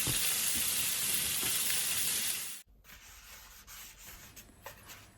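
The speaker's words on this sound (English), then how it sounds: "So let's get started by stir frying the beef." Beef stir-frying in a pan gives off a loud, steady sizzle and scraping that stops abruptly partway through, leaving faint clinks and quiet kitchen sounds.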